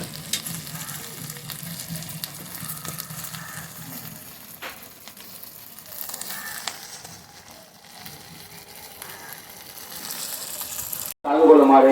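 Fish frying in hot oil in a home kitchen, a soft steady sizzle with occasional crackles and stirring scrapes, turning into a loud burst of noise in the last second.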